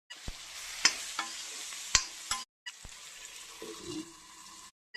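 Chopped tomatoes with turmeric and spices hit hot oil in a pan for chicken curry, giving a short hiss and sizzle broken by a few sharp clinks and stirring scrapes, with a brief silent gap partway through.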